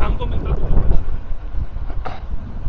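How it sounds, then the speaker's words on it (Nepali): Wind buffets the microphone at Riverland Dubai, a loud rumbling low roar that rises and falls in gusts, with a voice talking under it. "हावा चाहिँ यस्तो शीतल हावा"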